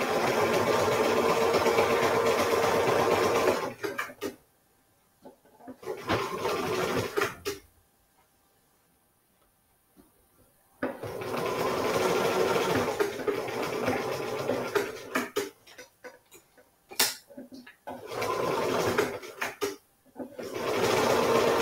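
Sewing machine straight stitching fabric for a lavender bag, running in several fast, whirring bursts separated by pauses, including one long silent gap, with faint clicks between runs.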